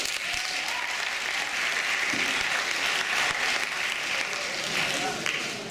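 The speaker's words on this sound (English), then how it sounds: "clap for all the brothers and sisters" An audience at a Women's Day university event claps steadily and evenly throughout, a broad continuous wash of applause with faint crowd murmur beneath.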